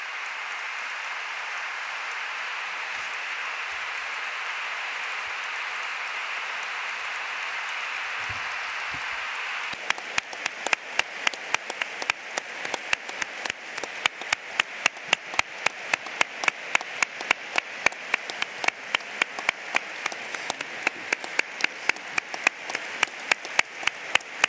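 A lecture audience applauds at the end of a talk on nihilism and jihadism. After a stretch of steady hiss, the clapping settles into a brisk, even rhythm that continues to the end.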